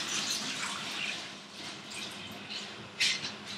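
Warm water left from boiling potatoes is poured out in a home kitchen while making aloo and cheese paratha dough, a steady close splashing stream with a brief louder gush near the end.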